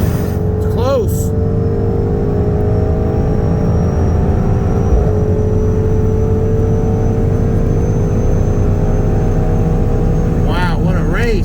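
A 2018 Audi RS7 with exhaust and OTS 93 tune and a 2021 Mercedes GT63 S AMG with bolt-ons on 93 race from a rolling 40 mph, engines roaring loud and continuous with rising pitch, heard from inside a car.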